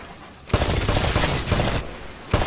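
Rapid rifle fire at shooting-range targets in the game Titanfall, loud close bursts of automatic shots with brief pauses between volleys, no speech.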